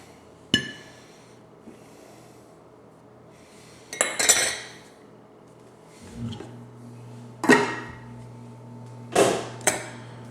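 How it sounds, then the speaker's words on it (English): Rice being scooped out of a cooking pot with a utensil, giving several scraping, clinking knocks of metal on the pot spread through the clip, fairly close, with quiet pauses between them. "give us some freshly cooked rice out of the pot"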